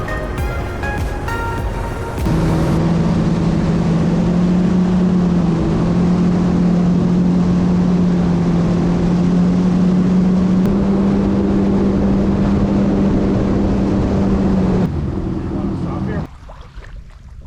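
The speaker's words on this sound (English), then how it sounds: "My ski was flying." A jet ski runs flat out on Florida's Econlockhatchee River, freshly serviced with new spark plugs, fresh oil and checked valves. Its loud, steady engine roar dominates, with a rough rushing start and an abrupt drop near the end.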